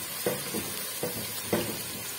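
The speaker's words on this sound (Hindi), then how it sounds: "इसके अंदर मैं प्याज डाल दूंगी और इस प्याज को मैं लाइट पिंक कर लूंगी" Sliced onions frying in half a cup of oil in a pan, with a soft steady sizzle and four distinct stirring scrapes at about half-second intervals, close and fairly quiet.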